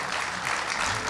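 An audience at an international mushaira (Urdu poetry gathering) in Houston applauds to welcome the poet Pirzada Qasim, a dense, steady wash of clapping that stays loud and even for the whole short moment.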